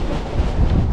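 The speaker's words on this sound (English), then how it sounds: "It's a little windy today." Wind buffets the microphone outdoors on a golf course, a continuous low rumble and roar that swells and dips in loudness throughout, with no voices.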